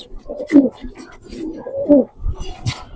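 Domestic pigeons coo at a pigeon seller's home in Mirpur, Dhaka, with several soft, close, throaty rolling coos in a loose rhythm and faint human voices in the background.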